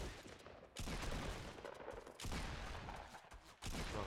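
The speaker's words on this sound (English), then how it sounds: "are you getting shot at? Yeah. Like every fucking direction." Dense, continuous gunfire from several directions in a Fortnite battle, loud and unbroken across the clip, with short gaps between heavy volleys and no talking.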